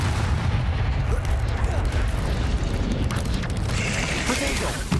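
A Confringo blasting spell explodes in the Hogwarts Legacy video game, giving a loud, sustained rumbling roar of blasts and crackle that fills the whole moment, with a voice partly audible beneath it.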